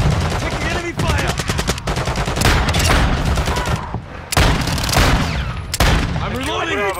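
Rapid automatic gunfire and shotgun blasts fill a Call of Duty Modern Warfare 2 match, with dense bursts of shots, loud and close, and brief in-game voice callouts mixed in.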